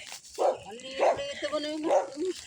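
A dog barks several times from a rural property with mango and banana trees, a few sharp yips and barks spread over a couple of seconds, moderately near, mixed with other outdoor sounds.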